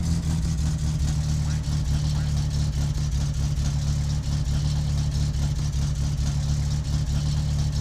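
Car engine in the video game My Summer Car, with a smoking engine and an improperly set up exhaust, runs and revs continuously at a steady, droning level under a person talking.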